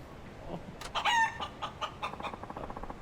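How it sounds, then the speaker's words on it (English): A rooster crowing alarm in the Yakuza 5 video game sounds as a single mid-level cock-a-doodle-doo with trailing clucks, moderately close over a faint background. "That's the alarm I set!"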